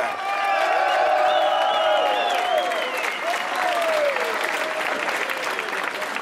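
A large crowd in Geneva applauding and cheering loudly and continuously at a cycling race awards ceremony, with whistles and shouts rising above the steady clapping.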